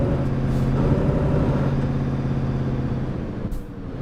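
Heavy truck engine in Euro Truck Simulator 2 drones steadily with a low rumble and turbo whine, loud and continuous, easing slightly near the end with a brief hiss.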